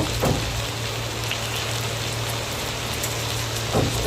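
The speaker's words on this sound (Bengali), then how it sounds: "চিংড়ি মাছটা একটু ভাজা ভাজা করবো" Shrimp frying in hot oil in a wok for a bottle gourd and shrimp curry, giving a steady, rain-like sizzle throughout, with a couple of brief louder crackles near the start and end.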